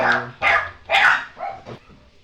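A dog barks close by, a quick series of four or five sharp barks with short gaps between them.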